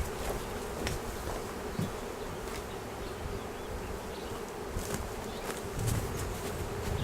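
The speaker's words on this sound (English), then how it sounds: "A couple of dozen are buzzing around" A couple of dozen honeybees from a collected swarm buzz around a hive box in Cupertino, California, a continuous close droning hum with occasional louder passes.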